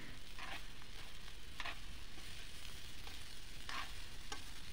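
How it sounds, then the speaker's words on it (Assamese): Vegetables frying in a pan with coriander, cumin and chili powder, a steady close sizzle broken by a few brief bursts of stirring, with no one talking. "এইখিনি অলপ সময়ৰ কাৰণে ভাজি ল'ম।"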